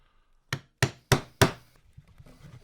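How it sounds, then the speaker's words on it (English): A wooden mallet striking a chisel while carving a wooden relief: four sharp, evenly spaced knocks close up, followed by softer, fainter taps. "now that I've got the main outline of the main figure chiseled in"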